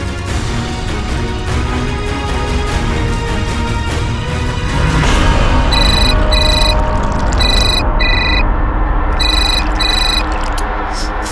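A phone ringtone trills in repeated bursts over a loud background hum, rings coming in pairs with short pauses between.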